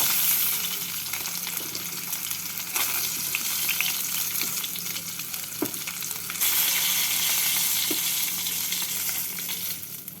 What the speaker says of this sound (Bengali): বাকি মাছগুলোকে এই একইভাবে ভেজে নেবো